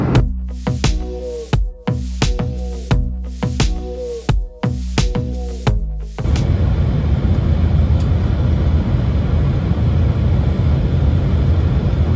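Cabin noise aboard a JSX semi-private jet in flight: a loud, steady broadband roar and rumble fills the second half, following a run of rhythmic knocking impacts in the first six seconds.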